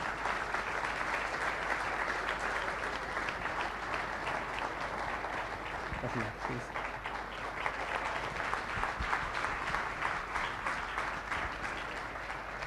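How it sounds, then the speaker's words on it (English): An audience gives a round of applause for actress Manisha Koirala at the Take Pride 2016 event, a steady wash of clapping lasting throughout at moderate level with no talking over it. "big round of applause for Miss Manisha Koirala"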